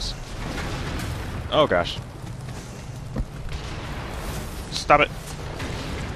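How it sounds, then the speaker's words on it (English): Cannon fire in Nioh lands as dull distant booms among battle noise, with a player talking over the action. "They're still shooting cannons."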